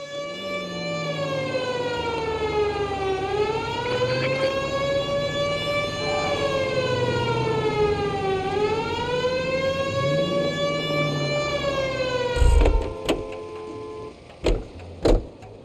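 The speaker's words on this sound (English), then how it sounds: "Cole, turn on the siren and pull her over" A police car siren wails in the video game L.A. Noire, a loud rising and falling tone cycling slowly and steadily, then cutting off, followed by a few sharp clicks and thumps near the end.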